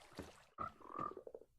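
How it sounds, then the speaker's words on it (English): Frogs croak in a Minecraft frog exhibit, close and fairly quiet, in a short run of burbling croaks that end in a rapid rattling trill. "So here is my frog exhibit."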